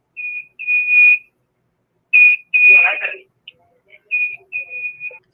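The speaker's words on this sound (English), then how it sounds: "that beeping is really obnoxious" Loud, high-pitched electronic beeps repeat in uneven bursts of varying length, with a brief rougher noise mixed in near the middle.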